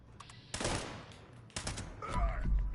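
Gunfire in the Fallout 76 video game: two sharp broadband bursts about a second apart, each decaying quickly, then a louder rumbling low-end impact near the end, over a steady background of game noise.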